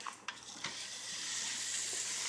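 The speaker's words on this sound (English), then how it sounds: "Well, nice little sizzle." Steak frying in a hot pan gives a steady, moderate hiss that swells slightly, with a few faint clinks and stirring touches near the start.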